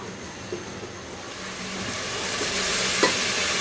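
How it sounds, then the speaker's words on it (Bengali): Spices sizzle in hot oil as a spoon scrapes and stirs the pan, frying the masala for beef bhuna, with a steady crackle that swells slightly toward the end. "এখন এটাকে আমার একটু ভুনে নিতে হবে অল্প একটু"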